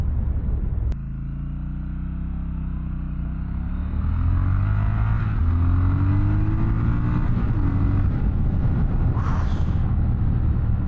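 A 2024 Triumph Scrambler 1200X motorcycle accelerates hard, its low engine rumble rising steadily in pitch through the gears, loud and close throughout with no talking.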